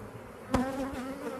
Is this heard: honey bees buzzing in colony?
yes